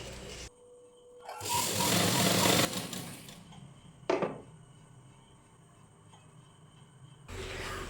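A sewing machine stitching a blouse whirs in a fast burst after a quiet pause. A shorter run of stitching and a faint clack follow, close and moderately loud, with no voice over it.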